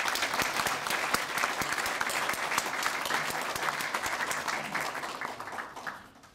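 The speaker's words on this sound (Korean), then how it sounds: "다시 한번 큰 박수 부탁드리겠습니다" Audience applauds steadily at a university professor's retirement ceremony, dense clapping filling the room for about six seconds before tapering off at the end.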